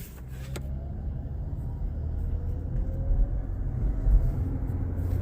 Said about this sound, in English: because we just hit like 20 miles an hour, so that's when the engine kicks in